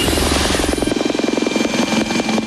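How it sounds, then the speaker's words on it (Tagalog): A military helicopter lands on the warship USS Green Bay, its rotor thumping in a steady, rapid beat over a loud, continuous engine roar. "Sa paglanding ng helicopter sa tambuhalang warship na USS Green Bay"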